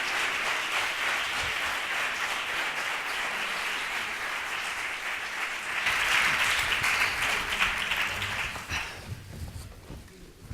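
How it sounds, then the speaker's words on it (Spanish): Audience at a gastronomy innovation event applauds as three guests are welcomed, a dense, steady wash of clapping that swells louder partway through and then thins out toward the end. "Y un aplauso fuerte para ellos."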